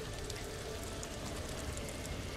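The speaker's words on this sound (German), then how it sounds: "Jin Sakai lässt grüßen aus dem Regen" Steady rain falling in the video game Ghost of Tsushima, a constant soft hiss of drops with no talk.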